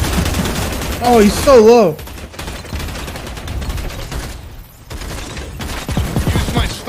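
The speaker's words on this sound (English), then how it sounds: "Oh no, I'm getting shot from the back." Bursts of gunfire ring out in Hunt: Showdown, sharp rapid shots clustered in volleys across the span, with a player's voice speaking over part of it.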